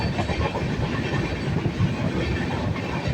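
Steady rumble and rhythmic clatter inside a moving train carriage, continuous wheel noise on the rails with a faint hiss, close and even throughout, no voices.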